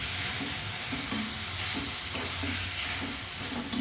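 Raw pumpkin and green tomato chorchori with mustard paste is stirred in a pan, a spatula scraping in short repeated strokes over a steady hissing sizzle, close and clear, with no voices.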